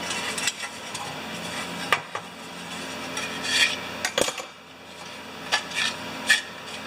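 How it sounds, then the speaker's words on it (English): Broken pull rope being drawn out of a lawn mower's recoil starter, with close rubbing, scraping and rasping plus a few sharp clicks and knocks of handled parts, fairly loud against a steady hiss and no talking. "I guess I can just pull it off the way it is. We'll just take it out."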